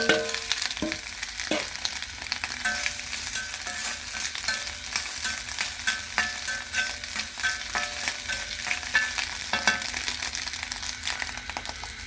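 Egg cooking with onion in a pan for an afternoon snack, a steady crackling sizzle with occasional spatula stirring and scraping throughout, close and fairly loud with no talk.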